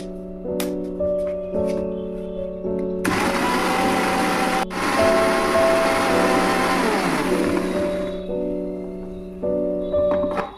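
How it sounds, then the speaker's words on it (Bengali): A mixer grinder grinding a spice paste with green chillies whirs loudly for several seconds, starting and stopping abruptly, with a steady motor hum before and after. "মিক্সিতে আমি মশলাটা বেটে নিচ্ছি"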